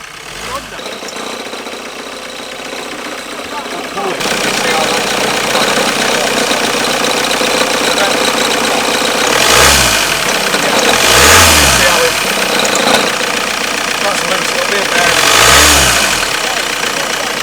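A truck engine idles roughly, then surges through several loud rev bursts, a running fault growing worse as it revs. People talk nearby throughout.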